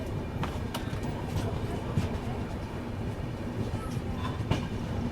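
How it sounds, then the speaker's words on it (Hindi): Bharat Gaurav tourist train pulls out of Kolkata railway station, a steady low rumble of rolling carriages with faint rhythmic clicks, heard from inside the coach. "फाइनली कोलकाता रेलवे स्टेशन से अपना डिपार्चर यहाँ पे अभी हो चुका है।"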